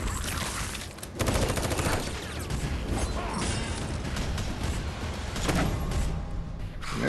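Gunfire aimed at walkers in The Walking Dead: All Star rattles on in quick, continuous volleys, loud and close throughout, mixed with mechanical clanks and whooshes.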